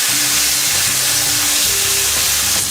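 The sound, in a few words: carne asada steak searing in a hot pan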